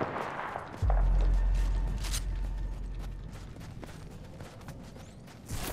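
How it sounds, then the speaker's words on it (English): Gunfire rattles through an Apex Legends match, a loud low burst of shots at first, then fainter scattered shots and mechanical clicks that continue to the end. "Opening fire."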